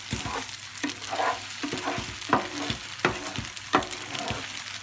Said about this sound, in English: all you need to do is cook your egg through and dinner's ready